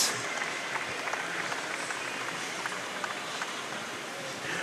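Spectators applauding and cheering for officials at a county swimming championships, a steady wash of clapping and cheering that fills an echoing indoor pool hall.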